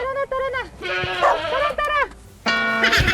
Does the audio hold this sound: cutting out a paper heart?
no